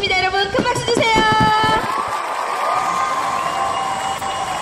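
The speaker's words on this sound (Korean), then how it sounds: "여러분 큰 박수 주세요." A crowd at an outdoor variety performance in Sangju cheers and claps over music, a broad wash of applause and shouts. A voice speaks through it.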